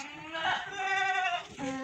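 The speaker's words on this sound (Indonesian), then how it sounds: "Untuk kambing yang saya pelihara selama ini adalah kambing Etawa ras Kaliksing, jenisnya kambing kontes." Etawa goats of the Kaliksing breed, kept as contest goats on a farm, give a long wavering bleat with a brief second call at the end, close and fairly clear.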